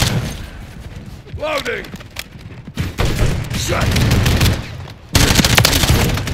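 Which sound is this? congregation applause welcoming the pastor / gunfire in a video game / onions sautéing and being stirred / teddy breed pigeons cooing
gunfire in a video game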